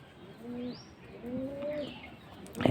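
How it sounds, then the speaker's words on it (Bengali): Pigeons cooing near water where they bathe in hot weather, a few soft, close, rising and falling coos with light chirps and a brief flutter at the end. "আরও গোসল করার জন্য কবুতরগুলো আশপাশ দিয়ে ঘুরছে।"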